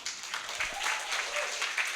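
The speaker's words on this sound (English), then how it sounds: "Give a round of applause for that." An audience at an open mic night in a creative cafe applauds a comedian, light clapping at moderate distance mixed with some voices.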